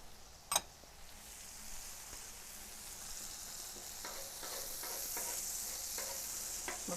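Garlic and ginger paste frying on a flat griddle: one sharp clack, then a faint sizzle that slowly builds, with light ticking scrapes of a utensil toward the end.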